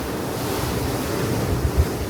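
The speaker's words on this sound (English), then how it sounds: "we are like out in the ocean now" Ocean waves wash and roll steadily against a cruise ship far out at sea on the Sky Princess, with constant wind buffeting the microphone and a couple of slightly stronger surges near the end.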